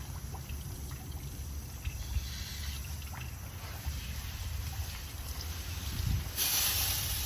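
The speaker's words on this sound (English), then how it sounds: "I have water here, so let me kind of hose it off." A hose rinses soil off a harvested purple yam (ube): close, continuous running and splashing water that grows louder and brighter in a sudden gush near the end, with no talking.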